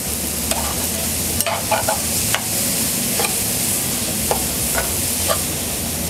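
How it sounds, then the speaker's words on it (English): Browning turkey and hot Italian sausage mixture stirred in a pan, a strong continuous sizzle punctuated by several sharp spatula knocks and scrapes at irregular intervals, close and without voices. "We're going to go ahead and give this a good stir"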